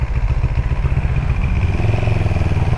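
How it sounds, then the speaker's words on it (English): A CFMOTO CLX 700 motorcycle pulls away under acceleration, its engine giving a loud, steady, throbbing roar close by throughout the short stretch, with no talking. "I like the feel of the bike whenever it takes off."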